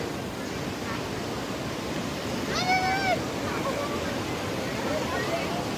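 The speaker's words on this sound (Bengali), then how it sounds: "প্রচুর স্রোত নদীর।" The strong current of the Khowai river near Jalalabad, Habiganj rushes as a steady broadband roar, with a brief high whistling tone riding over the water noise midway.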